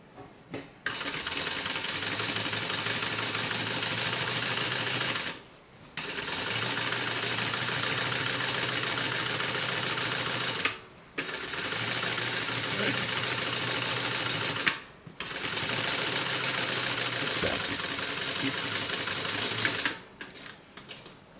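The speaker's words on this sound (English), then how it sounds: "All right, let's top stitch. So I'm going to top stitch on the bottom panel." A sewing machine top stitching the bottom panel of a bag runs in long steady bursts of fast, even needle hammering, stopping briefly three times between runs, close and loud with no talk.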